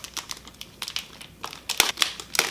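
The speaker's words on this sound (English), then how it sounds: "the control here, which is wrapped in all sorts of plastic here, so again, let's peel all that off" Plastic wrap peeled off a new DJI Phantom 4 drone remote controller, giving close crinkling and crackling in short irregular bursts that grow sharper and louder toward the end.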